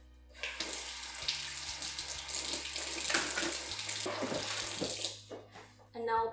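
Tap water runs to rinse out a container, a splashing, gurgling stream that shifts as the container is moved under it, with a faint low hum in the background.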